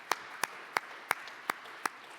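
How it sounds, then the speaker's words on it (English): Applause at a rail industry awards ceremony, heard as six distinct, fairly quiet claps spaced evenly, like a single person clapping slowly in a hushed room. "So give them a warm round of applause as well."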